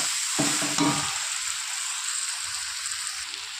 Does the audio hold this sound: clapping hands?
no